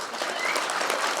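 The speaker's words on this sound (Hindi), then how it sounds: "जोर से ताली बजा सकते हैं?" Audience applause at a master class with actor Shabana Azmi during a theatre festival, a steady broadband wash of many hands clapping fairly close, sustained and even without voices.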